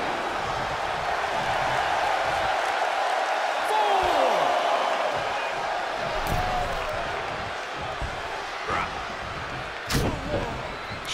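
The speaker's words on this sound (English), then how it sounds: "The sound of this crowd is deafening" Wrestling arena crowd roaring in the WWE 2K22 video game, a loud sustained wash of noise with occasional sharp slams and whoops, partly under commentary.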